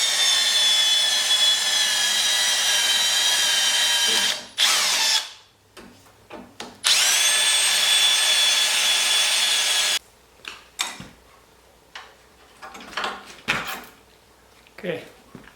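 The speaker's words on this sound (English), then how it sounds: "I'm going to drill in this." A power drill bores a hole for an LED light switch on a snowblower, whining loudly and steadily in two long bursts separated by brief pauses, followed by quieter scraping, clicks and handling noises close by.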